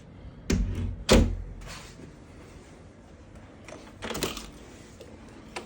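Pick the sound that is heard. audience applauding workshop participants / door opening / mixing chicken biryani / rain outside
door opening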